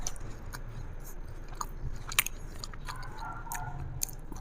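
Someone bites into and chews a pistachio treat with a crunchy outer shell and a moist inside, giving close, crisp crunches and irregular munching with no talking.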